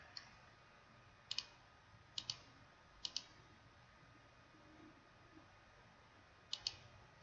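Quiet computer mouse clicks come in crisp pairs at irregular intervals, roughly four double-clicks in all, close to the microphone over faint room hiss.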